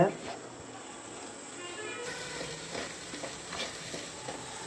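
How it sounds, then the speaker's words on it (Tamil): Cashews fry in ghee for pumpkin halwa, giving a steady, fairly quiet sizzle and hiss throughout, with a few faint stirring scrapes. "இந்த நெய்யில் முந்திரியை வறுத்து எடுத்துக்கலாம்"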